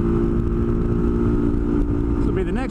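A motorcycle engine accelerates up close with a steady, loud drone. Toward the end the pitch rises as the bike revs higher.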